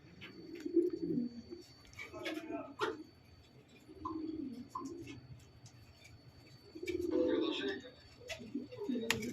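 A pair of pigeons coo softly in low, throaty bursts, several calls spread across the clip with faint clicks and background noise.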